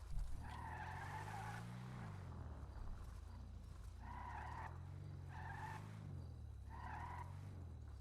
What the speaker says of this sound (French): la voiture qui glisse sur le côté, c'est quelque chose quand même